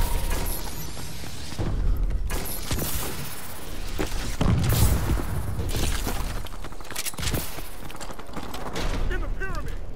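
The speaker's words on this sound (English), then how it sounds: "Enemy missile strikes!" Enemy missile strikes explode in a multiplayer shooter video game, a dense barrage of booms and gunfire bursts with loud impacts, while voices call out over the chaos.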